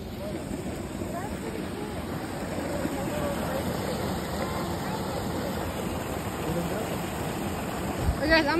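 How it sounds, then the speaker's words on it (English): A river spills steadily over a small dam in the woods, making a constant broad rushing wash that stays fairly close, with a faint voice or two beneath it. "And it's like a mini dam!"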